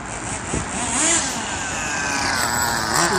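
A small Kyosho nitro engine in an RC car, a James Bond 007 model, revs continuously with a rising and falling whine, fairly close and steady throughout.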